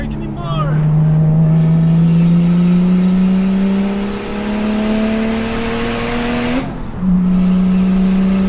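Car engine pulling hard up a mountain canyon road in second gear, a loud, rising drone as revs climb steadily, then a brief dip at a shift before the tone resumes; speech is faintly mixed in.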